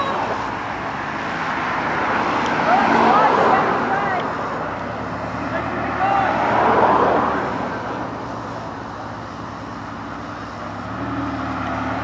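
A loud Ferrari Pista supercar pulls away from a car meet, its engine roar swelling and fading twice amid traffic rumble, with people talking nearby throughout.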